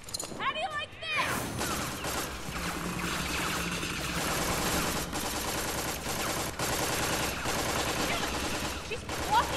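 Loud, continuous gunfire from the Tales from the Borderlands video game: dense overlapping bursts of shots rattle on without a break for the whole stretch after a brief lead-in.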